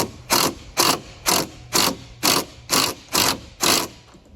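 Eight evenly spaced, crisp ratchet clicks ring out close up as a hand ratchet snugs the headlight bracket bolts on a Ram truck, loud and rhythmic with no talk.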